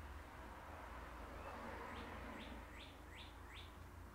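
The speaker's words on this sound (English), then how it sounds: "Just what that bird said." A bird chirps several times in quick succession, a run of short rising calls over steady background noise, fairly faint against the hum.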